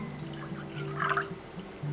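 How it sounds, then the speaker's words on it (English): Dashi soup stock poured over two eggs with salt and pepper for a Japanese omelette-style sandwich: a short, soft liquid trickle that peaks briefly in the middle, close and quiet against a faint room hum. "And we pour dashi."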